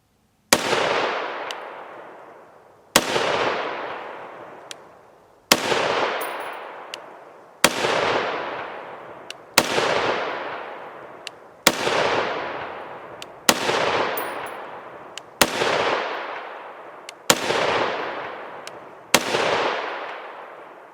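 A rifle fires 7.62x51mm Winchester 135-grain Sierra hollow-point rounds in a slow, evenly spaced series of about ten loud, sharp reports, each trailing off in a long echoing decay, with no talk.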